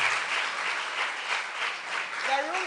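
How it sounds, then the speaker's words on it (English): Steady applause from an audience at a women-in-STEM camp event, dense and even throughout, with a voice briefly rising near the end. "Round of applause, please, before he comes on stage."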